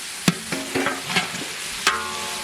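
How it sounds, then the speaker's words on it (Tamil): Ginger and garlic sautéing with fresh mint and coriander leaves in a pan, a soft steady sizzle broken by a few sharp stirring scrapes and clacks. "புதினா மல்லி சேர்த்துக்கலாம் நல்லா வதக்கி நல்லா கலந்து விட்டுக்கலாம்"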